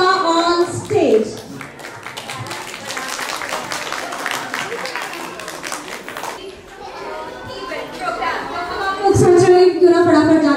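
An audience at an Independence Day cultural programme claps, welcoming a ladies' dance group onto the stage. The dense applause runs for several seconds amid crowd chatter and children's voices, then fades as music begins.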